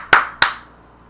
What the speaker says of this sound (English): a rendition of his clapping that he did multiple times